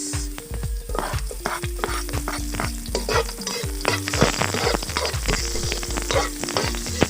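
Onion sizzles loudly in a hot pan where ginger is already sautéing, while a spoon or spatula scrapes and stirs in quick, repeated strokes throughout, up close and steady.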